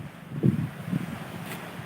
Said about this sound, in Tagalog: Masarap ng hangin.